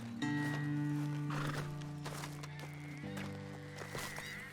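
Horses in Red Dead Redemption 2 give a loud, drawn-out whinny at the start, followed by snorts and hooves clip-clopping and shuffling nearby, with a few further higher calls toward the end.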